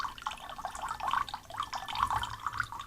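Water dripping slowly into a glass of absinthe, small soft plinks and trickles coming in uneven bursts, close and quiet with nothing else heard.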